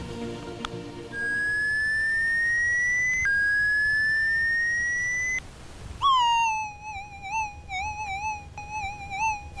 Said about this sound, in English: Turn the detector on.